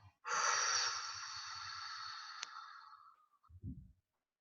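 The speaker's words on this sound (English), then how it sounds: "feel a nice deep breath in, and a little pause, and then as long out as we can do" One long, steady breath of air rushes out close to the mic during a calm breathing exercise, fading gradually, and a short soft breath follows.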